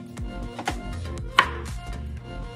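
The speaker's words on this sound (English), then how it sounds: "before I start chopping up carrots" A knife chops carrots on a board in a steady series of close, crisp thuds, with one sharper knock partway through and no voices.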